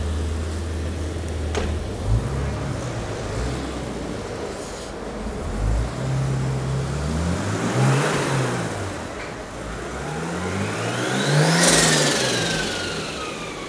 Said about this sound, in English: most of the time we're driving it, you don't hear the turbo that loud